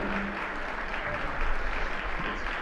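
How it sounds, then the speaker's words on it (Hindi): A gathered congregation at a Jain spiritual discourse with Praman Sagar Ji Maharaj claps together. The applause is steady and fairly close, briefly swelling midway. "एक बार जोरदार तालियां सदन की तरफ से हमारे गुरुवर के चरणों में"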